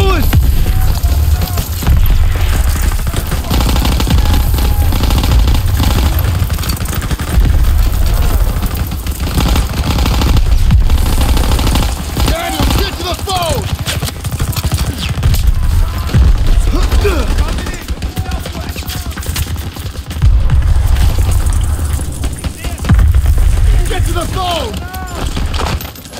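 Rapid bursts of rifle and machine-gun fire crackle nearly nonstop in a WWII tank battalion battle set in Germany 1944, loud and close, with shouted voices and combat chatter mixed over the shooting.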